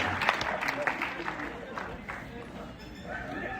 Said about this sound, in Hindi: अब वही लोग ताली बजा रहे जो मॉर्निंग वॉक पर नहीं जाते।